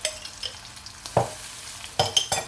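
A spoon stirs chicken mince with garlic and ginger paste in a hot pan for chicken keema mattar, giving short scraping strokes over a soft sizzle, a few distinct stirs close up and no talking.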